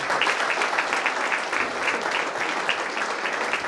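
An audience at a college felicitation event applauds a woman being honored, a dense, steady round of clapping from many hands lasting the whole moment without any voices.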